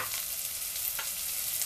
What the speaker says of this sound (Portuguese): Vamos acrescentar também a cebola e vamos fritar esses dois ingredientes.